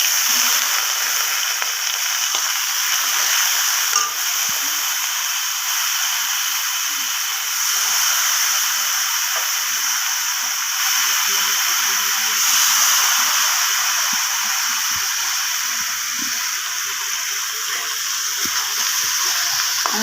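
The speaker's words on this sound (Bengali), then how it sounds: "এবার আমি ওই কড়াইতে একদম অল্প সাদা তেল দিয়ে আমি গোবিন্দভোগ চালটাকে ভেজে নেব" Gobindobhog rice fries in a little white oil in a wok with a soft, even sizzle and hiss that runs unbroken for the whole stretch, dotted with faint clicks.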